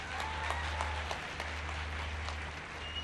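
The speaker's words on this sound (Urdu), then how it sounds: "ویسے اس میں زیادہ تالیاں لڑکوں کو بجانی چاہیے" An audience at a scholarship program ceremony breaks into brief, moderate applause, scattered hand claps over a low steady hum in the hall.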